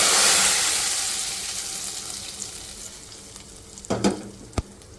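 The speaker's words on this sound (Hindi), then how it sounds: "ये जो हमने तड़का बनाया है वो मैं इस मिर्च के ऊपर डालूँगी" Loud hiss of hot tempering oil poured over chilies, fading over several seconds, followed by a few sharp clinks and splashes near the end.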